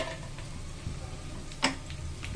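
Garlic sizzles in hot oil in a pan alongside fried dried red chillies for a tomato pickle, a constant crackling hiss broken by a single sharp clink of a utensil.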